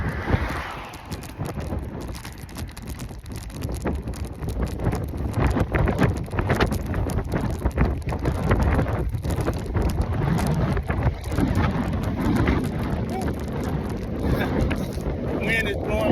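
Strong wind gusting against a bicycle on a long uphill road ride, a loud rumbling buffet of air across the microphone that swells and stays heavy, with no voices heard.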